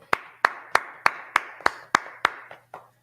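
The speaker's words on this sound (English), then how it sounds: "Let's clap it up for the Lord." Congregation at a religious class clapping in unison, about nine sharp, evenly spaced claps in a steady beat, the last couple trailing off softer, with no voices over them.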